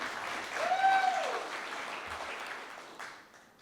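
An audience at a stage event at Porcfest applauds to welcome speaker Scott Horton, a steady wash of clapping that swells around the first second, then slowly thins and fades out.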